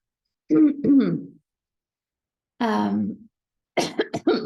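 A person coughs and clears their throat in separate short bursts with silent pauses between them, close and fairly loud.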